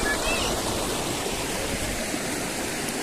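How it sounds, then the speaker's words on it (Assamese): A clear mountain stream at a resort in Arunachal Pradesh rushes and gurgles in a steady, close, unbroken wash of water noise. "পানীৰ শব্দ বহুত ভাল পাওঁ কলকলনি পানীৰ যিটো চফা পানী"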